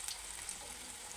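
Spinach pakoda fritters fry in hot oil with a steady, soft sizzle and bubbling crackle. The sound stays even and close, with no voice over it.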